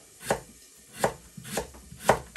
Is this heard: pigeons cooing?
no